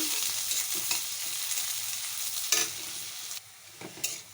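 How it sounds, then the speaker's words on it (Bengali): Chopped onions sizzle in hot oil in a pan as they are stirred and fried until brown, a steady hiss broken by scraping stirs, with no talking. "পেঁয়াজটা একটু ব্রাউন কালার করে নেব।"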